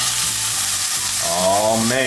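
A pork chop hits a smoking-hot pan and sizzles loudly and steadily up close, with a brief voice speaking over the frying.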